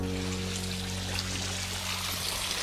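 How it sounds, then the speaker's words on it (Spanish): Faint, steady trickle of water from a small stream running down a hillside in Patagonia, a soft continuous wash with no voices over it. "Se siente agua."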